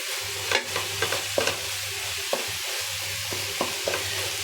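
Radish greens from a home garden stir-fried in a pan, with steady close sizzling broken by sharp scraping stirs at uneven intervals, no voices.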